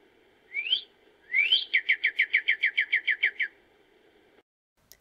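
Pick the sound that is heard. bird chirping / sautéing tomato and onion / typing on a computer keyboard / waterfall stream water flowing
bird chirping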